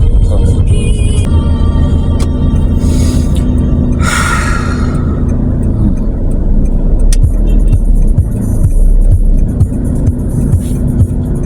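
A car driven by a learner pulls forward under steady engine rumble, with the motor building smoothly as the gas is pressed, loud and close from inside the cabin.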